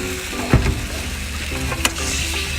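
Vinegar and cooking wine hit a hot wok of seafood, giving a steady sizzle with a sharp burst near the start and a second clatter shortly after, close and fairly loud, with no talk.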